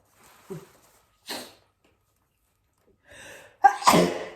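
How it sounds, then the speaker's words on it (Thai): A sneeze from someone with a pollen allergy: a faint sniff and short breathy catches lead up to one loud, sharp, close sneeze at the end, with quiet gaps between. "เกสนดอกไม้เริ่มออกก็เริ่มจามคืนนี้อ่ะเด้อ"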